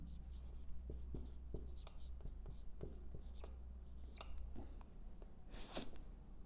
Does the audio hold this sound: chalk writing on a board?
yes